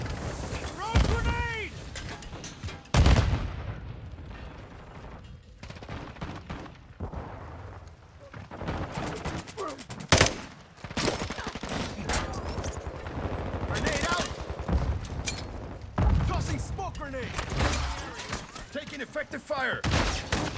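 Gunfire in Call of Duty Modern Warfare II, with bursts of automatic fire and heavy shots recurring across the clip, mixed with loud game effects and voices talking throughout.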